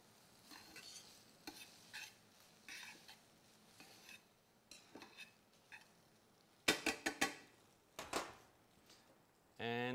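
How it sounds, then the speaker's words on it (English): Pasta carbonara with Parmigiano cheese being stirred in a pan, giving a series of scattered scraping and clinking strokes with a louder burst of metallic clatter near the end, close and fairly quiet, with no one speaking. "I'm gonna give that a quick little whirl."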